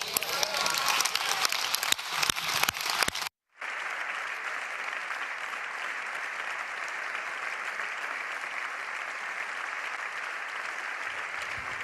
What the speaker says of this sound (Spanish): les pido que aplaudamos en pie a María Corina Machado